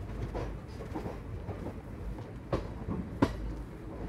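Passenger train hauled by an electric locomotive on the new electric line between Rajahmundry and Bhimavaram, a steady low rumble of wheels on track with a couple of sharp clanks near the end.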